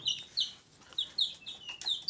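Newly acquired chicks in a poultry coop peep repeatedly, with short, high-pitched chirps coming close together at close range and no voices.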